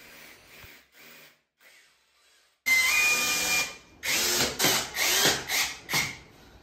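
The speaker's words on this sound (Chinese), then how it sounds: "玻璃钻头打孔，冲击钻头加深" A power drill bores holes with a glass bit and then an impact bit while a cabinet is installed, first a few faint short bursts, then a loud sustained whine followed by several strong pulsing drilling bursts close by.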